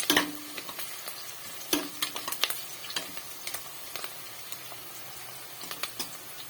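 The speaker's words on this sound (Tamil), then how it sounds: "குக்கரில் எண்ணெய் நெய் வெங்காயம் பட்டை லவங்கம் இலை ஏலக்காய் இது எல்லாத்தையும் சேர்த்து நல்லா வதக்கிக்கலாம்" Onion with cinnamon, cloves, bay leaf and cardamom sizzles in oil and ghee inside a pressure cooker, a soft steady fry punctuated by frequent close clicks and scrapes of stirring.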